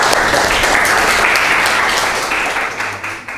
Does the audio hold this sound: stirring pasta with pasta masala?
no